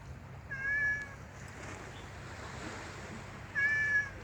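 A cat meows twice indoors at a cat museum in Hong Kong, two short clear calls spaced a few seconds apart over a steady low background hum.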